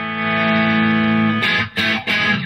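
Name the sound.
clean electric guitar tone through BOSS IR-2 amp modeler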